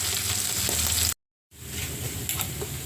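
Dried fish (daing) frying in a pan, a steady close sizzle and crackle with faint stirring, cut by a brief silent gap before the sizzle resumes.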